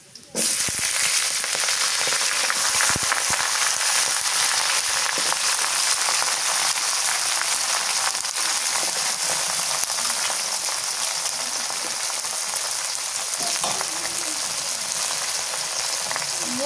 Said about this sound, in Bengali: মরিচ রসুন ভাজা হয়ে গেছে, এবার শাক দিয়ে দিই।